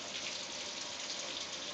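Hand swishing through a bowl of ice water, a soft continuous watery swirl, faint and steady with no voices.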